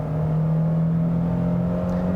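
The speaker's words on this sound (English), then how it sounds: "You do have to rev it out to get it to go" A naturally aspirated VQ V6 in a 2022 Nissan Frontier PRO-4X pickup at high elevation holds a steady, loud hum with a strong constant low drone throughout, no talk over it.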